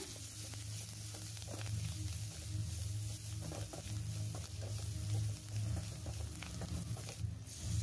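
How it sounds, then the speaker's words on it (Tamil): Onion, garlic and coriander sauté in a pan for sambar, with a steady close sizzle and occasional stirring scrapes and pops, and no voices. "வெங்காயம் பூண்டெல்லாம் நல்லா வதங்கியிருக்கு கொத்தமல்லி ஆட் பண்ணிக்கலாம் ஆட் பண்ணிவிட்டு இதையும் நல்லா வதக்கிக்கலாம்"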